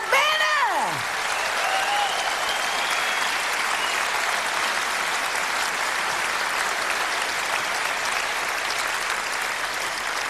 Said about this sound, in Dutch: Maak een warm applaus voor het Metropoolorkest onder leiding van Mr. Michael Abene.